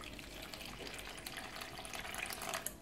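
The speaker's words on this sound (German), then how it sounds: "Ein Teil von dem Wasser drauf." Lukewarm water poured from a container onto yeast in a bowl while making bread, a steady close trickle and splash lasting a few seconds with no talking.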